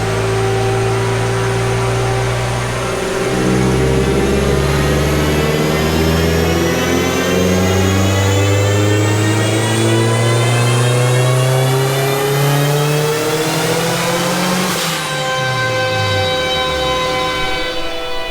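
A car engine running on 21% ethanol roars at high revs under heavy load on a dyno, its pitch climbing steadily for about fifteen seconds before cutting off and winding down.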